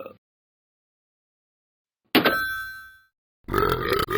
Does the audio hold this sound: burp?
yes